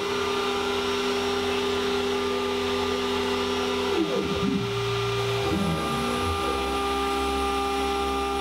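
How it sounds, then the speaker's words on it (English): A CNC router spindle whines steadily at close range, then dips and swoops in pitch midway as the end mill bites into wood before settling back to a high steady tone. "this time the spindle does start"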